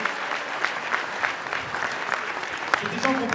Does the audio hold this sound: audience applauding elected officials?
yes